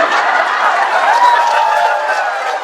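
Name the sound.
audience applause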